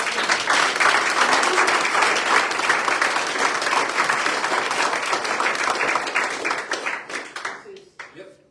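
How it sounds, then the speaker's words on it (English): Audience members at a city council meeting give a round of applause, dense clapping mixed with crowd murmur and voices that holds steady before thinning out and fading into a few last claps. "So they deserve a round of applause."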